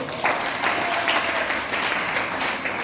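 A church congregation applauds together during a Sunday morning Easter sermon, a dense, steady burst of clapping that fills the room without pause.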